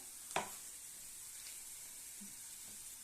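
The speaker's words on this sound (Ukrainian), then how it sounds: "відправляємо обсмажувати нашу цибульку до прозорого кольору" A steady, hissing sizzle of onion frying in a pan, broken by a single clink of a utensil near the start.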